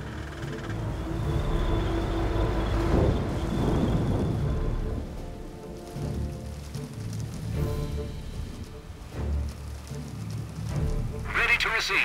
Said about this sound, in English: Now that's real rain, you puffer.